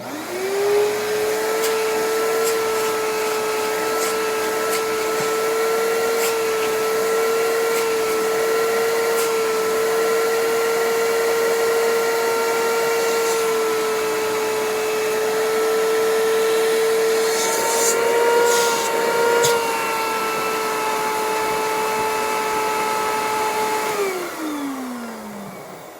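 A Eureka Victory vacuum cleaner with weak suction runs continuously, a loud steady motor whine with an airy roar underneath, winding down near the end.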